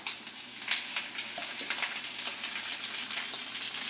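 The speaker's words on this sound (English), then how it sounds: "When you sear it there, it actually holds the bacon on and makes it stay on there" Bacon-wrapped shrimp searing bacon-side down in a hot pan, a steady close crackling sizzle with small irregular pops throughout, no voices.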